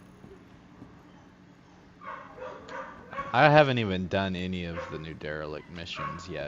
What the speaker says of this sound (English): apologize for the dog in the background. There's two of them.